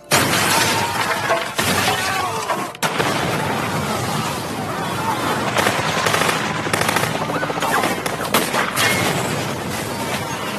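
A film fight scene from Shooter 2 erupts in dense, loud automatic gunfire mixed with bomb blasts and shattering debris, an almost unbroken barrage throughout.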